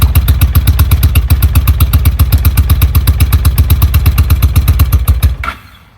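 A Honda Shadow motorcycle with a clogged fuel petcock runs at idle close by, a loud, evenly pulsing thump for about five seconds before it cuts out.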